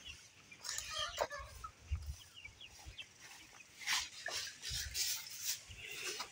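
Several Sonali chickens cluck and call at feeding time, their short irregular clucks coming from nearby amid light rustling, with no talk over them.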